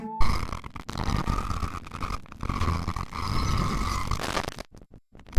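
A loud, distorted demonic roar from the Icon of Sin boss in Doom, harsh and sustained, cutting off abruptly into brief silence near the end.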